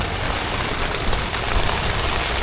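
Heavy rain hammers steadily on a tent during a storm at a solo bike-camping site in Tanay, a dense, continuous close patter with no voices.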